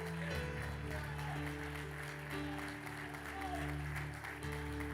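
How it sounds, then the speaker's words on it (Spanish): Congregation at a church service claps together while sustained music with steady tones plays beneath, a continuous mix of clapping and accompaniment. "Dale una fuerte ofrenda de palmas a Dios."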